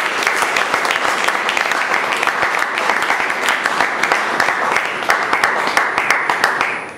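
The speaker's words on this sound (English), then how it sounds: "I think we deserve a big round of applause ourselves" A Toastmasters meeting audience bursts into loud, close applause, a thick, continuous wall of clapping that holds steady throughout.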